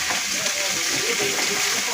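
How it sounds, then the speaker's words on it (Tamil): Onions and capsicum sautéing in hot oil give off a constant close sizzle and hiss, with a faint voice talking underneath. "அதையும் அந்த வெங்காயத்தோடு நல்லா அந்த எண்ணெயிலே வதக்க விடுங்க"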